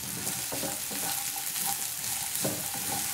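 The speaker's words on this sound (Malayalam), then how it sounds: "ഇനി നമുക്കിതിലേക്ക് ഒരു മൂന്ന് മീഡിയം സൈസിലുള്ള സവോള നല്ല ചെറുതായിട്ട് മുറിച്ചത് ഇട്ട് കൊടുക്കാം." Finely chopped onions fry with bitter gourd in a pan, a close, continuous sizzle broken by a few rhythmic stirring scrapes, with no voices.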